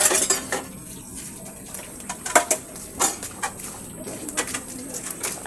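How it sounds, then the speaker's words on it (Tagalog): Dishes being washed at home, with plates and utensils clattering in sharp, irregular knocks and clinks, close by, while a pigeon coos in the background. "Nagugas pa ng pinggan."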